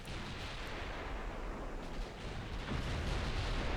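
Naval guns fire high-explosive shells at a battleship in the naval combat game Ultimate Admiral: Dreadnoughts, a dense, continuous roar of overlapping booming salvos with no pauses between them.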